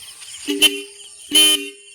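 Two short horn honks from a modified Royal Enfield Classic 350 motorcycle, the second longer, a bright nasal toot sounding close by against a quiet background.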